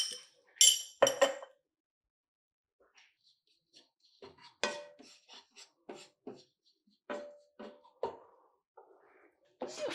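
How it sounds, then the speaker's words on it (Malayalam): Spices for paneer butter masala being mixed in a pan with a utensil: scattered scraping clinks and metallic taps in short bursts separated by quiet gaps, close and fairly faint, no talking. "ഇത് നമുക്ക് നന്നായി മിക്സ് ചെയ്യാവേ."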